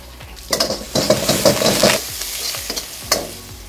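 Green chilies frying in hot coconut oil while a metal spoon stirs and scrapes the pan, bursts of sizzling crackle with clinks and scrapes, loud and close, no talking.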